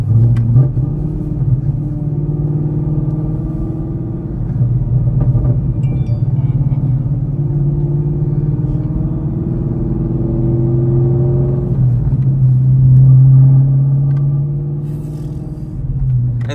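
A 2023 Camaro 1LE fitted with headers accelerates through the gears, its engine droning deep and loud with rising pitch sweeps between shifts, heard from inside the car.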